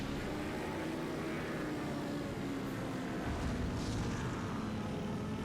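Airplanes drone steadily in 007 Nightfire over a bay, a continuous engine hum with a broad rushing wash, moderately faint and unbroken, with no speech.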